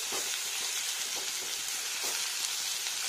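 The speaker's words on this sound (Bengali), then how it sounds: "এগুলো ভেজে নিচ্ছে" Ridge gourd pieces fry in hot oil with a dense, even sizzle that holds steady, broken only by a few soft stirring pulses, with no voices.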